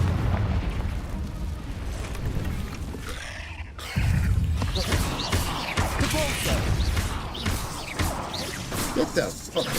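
Confringo spell casts in the Hogwarts Legacy video game, with loud fiery explosive bursts and crashes in a dense, busy combat mix, including a sudden strong blast near four seconds and further pops after it.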